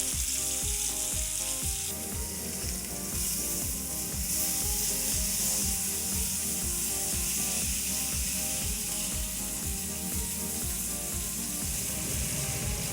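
Peri peri chicken coated in sauce sizzles and crackles steadily on a hot grill, a loud, continuous frying hiss close by with no talk.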